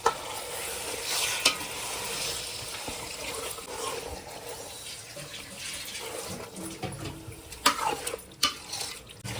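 Marinated chicken with yogurt and masala fries in a tempered pan for Bangalore-style donne biryani, a steady close sizzle with scraping stirs and occasional clinks of utensils.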